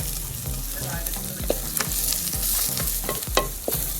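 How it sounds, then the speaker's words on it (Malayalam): Cinnamon and cloves sauté in hot oil for Kasaragod-style chicken varavu, a close steady sizzle with repeated rhythmic scrapes and clicks of stirring. "പിന്നെ പട്ടയും കറാമ്പും, കറുവപ്പട്ടയും കറാമ്പും അതിട്ട് വീണ്ടും വഴറ്റാം"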